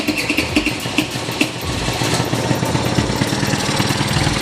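A Bosozoku scooter engine starts roughly with uneven sputtering pulses, then settles into a steady, close idle.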